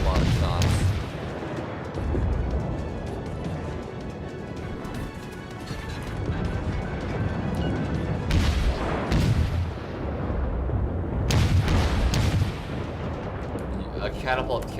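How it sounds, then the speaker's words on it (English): Heavy booming naval gunfire from ships in World of Warships, with repeated deep salvos and crashing impacts under ongoing talk. "I'm actually firing a lot of shots"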